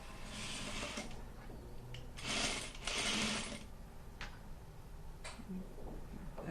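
A sewing machine edge-stitching a folded sleeve cuff, a faint steady mechanical whir with a few louder bursts of stitching and light ticks, nobody speaking.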